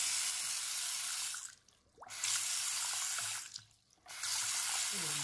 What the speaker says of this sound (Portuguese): deixar passar água para limpar